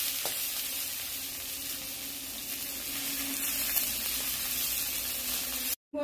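Eggplant pieces for a raw banana curry are stirred in hot oil in a wok, giving a soft, continuous sizzle with no voices, cutting off abruptly near the end.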